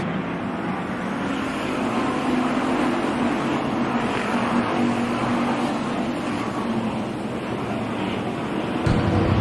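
A pack of race cars accelerates on the Kennedale Speedway Park track after a restart, their engines merging into a loud, steady roar that swells slightly near the end.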